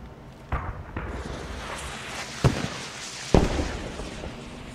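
Artillery rounds land in the video game Squad, three sharp blasts spread across a few seconds over a steady rumbling background, with no talk over them.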